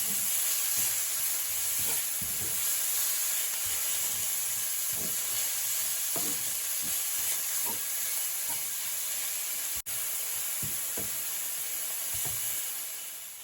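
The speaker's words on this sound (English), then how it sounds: "I'm going to now just allow my onions to saute into the butter here." Onions sauté in butter for garlic butter mushrooms, giving a continuous close sizzle and steamy hiss with soft spatters and occasional stirring knocks, no voices.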